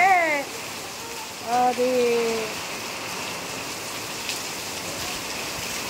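Rain falls steadily in Chintalapudi as a constant soft hiss throughout. A voice speaks briefly near the start and again at around two seconds, over the rain.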